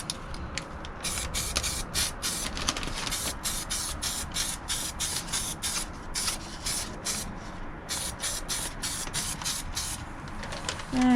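Spray paint hisses under the bonnet of an Austin Allegro in rapid repeated bursts, close and loud, each short spray pass starting and stopping in a quick irregular rhythm.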